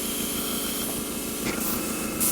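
An airbrush sprays generic Windex glass cleaner through its paint cup in a steady, continuous hiss, with a brief louder burst at the end.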